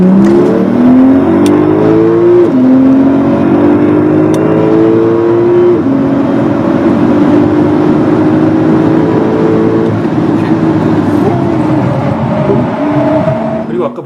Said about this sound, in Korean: 제가 991, 911, MK2 터보 S 모델을 탔을 때의 배기음을 한번 들어보시죠.